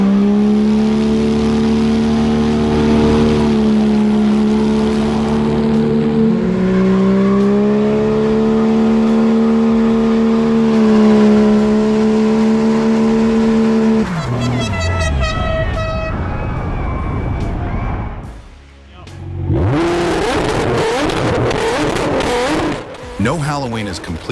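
A 4th-gen Ram pickup with a built 6.7 Cummins diesel, nitrous and new tires doing a burnout, a loud sustained engine drone that rises in pitch, then a harsh broadband roar of spinning tires, with talk over it.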